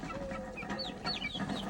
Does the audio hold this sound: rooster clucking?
yes